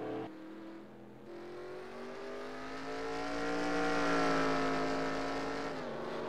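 A race car on the Charlotte Roval speedway accelerates steadily, its engine note rising in pitch and swelling louder over several seconds, a sustained harmonic whine heard alone with no talk.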